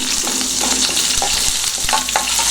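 Curry leaves and green chillies fry with chana dal and urad dal in hot oil for a rice dish, a loud, steady, close-up sizzle broken by several spatula scrapes.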